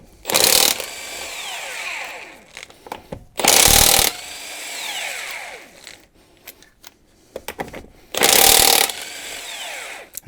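A passenger-side wheel comes off a 2005 Jeep TJ: three loud bursts of an impact or power tool, each lasting about a second, with quieter clunks and metallic handling sounds in between.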